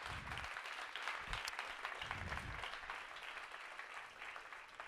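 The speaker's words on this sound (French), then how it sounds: "On peut les applaudir parce qu'ils sont bien partis quand même." An audience applauds steadily after a simulation cup final round, a dense wash of clapping held at a fairly even level throughout.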